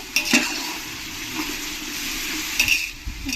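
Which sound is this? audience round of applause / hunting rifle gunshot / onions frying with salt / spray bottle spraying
onions frying with salt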